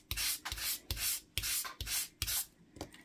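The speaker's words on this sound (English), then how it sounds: "So then sand the little wires off." Repeated rhythmic sanding strokes on the ends of thin fairy light wires, a soft raspy scrubbing back and forth about twice a second, close up and fairly quiet with no voices.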